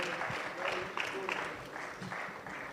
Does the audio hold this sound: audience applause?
yes